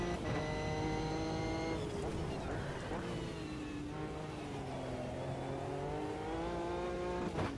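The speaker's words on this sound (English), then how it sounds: "Oh, this has a better engine sound." Race car engine in the Assetto Corsa Competizione racing game, a steady droning whine that rises and falls with gear changes and throttle, continuous and moderately loud, with faint talk mixed in.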